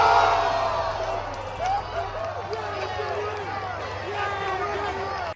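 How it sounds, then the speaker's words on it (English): Fans at a Washington football training camp practice cheer and shout after a rookie wide receiver's double-coverage catch, a moderate crowd roar with whoops beneath someone talking. "The crowd went absolutely crazy about it."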